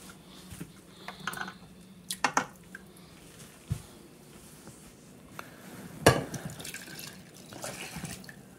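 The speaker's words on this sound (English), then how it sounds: "And so I will pour the water over these." Water is poured into and over glass jars of raw-packed chicken in a home kitchen, with faint splashing and trickling, a few sharp glassy clinks, and quiet handling noises.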